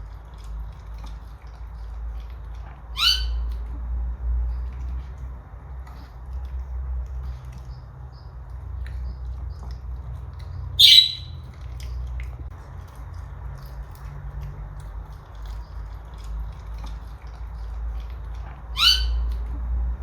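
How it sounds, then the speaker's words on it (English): A pet budgie squawking outdoors in three sharp, isolated bursts spaced several seconds apart, each brief and fairly loud over a quiet low hum of background noise. "I also take my budgie outside for some sunshine."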